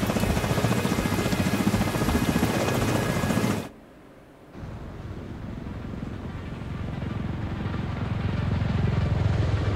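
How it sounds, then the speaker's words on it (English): Extraction helicopter in The Division 2, a loud steady rotor thrum that cuts out briefly for about a second, then returns softer and gradually builds back up. "we need to get Chernenko on that extraction chopper now"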